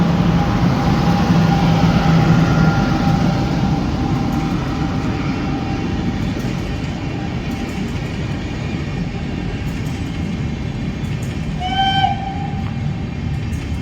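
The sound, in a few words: Patna Kota Express train passing with locomotive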